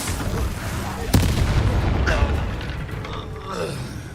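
Confringo blasting spell cast in Hogwarts Legacy, one sharp blast cracking through a busy mix of combat sounds, with mechanical creaks and rumble around it.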